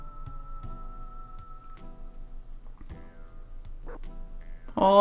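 A dog in the video game Final Fantasy VI gives a short, bright bark of goodbye near the end, over looping chiptune music with ticking steps.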